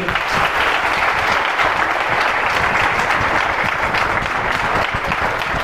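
An audience at a Parent's Day celebration applauding the student organizing committee, dense sustained clapping from many hands, loud and continuous throughout.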